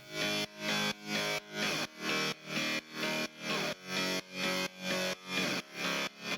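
A gritty, distorted, layered synth bass in a progressive house track pulses in a steady repeating rhythm, each note chopped off sharply before the next.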